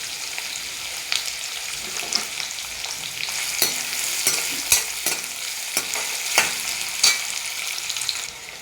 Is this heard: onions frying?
yes